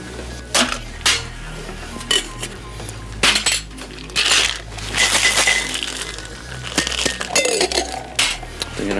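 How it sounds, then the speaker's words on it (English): Cocktail shaker loaded with ice being shaken hard at a bar, with rhythmic bursts of rattling, clinking ice that come close and loud in uneven pulses. "Gonna give this a good shake."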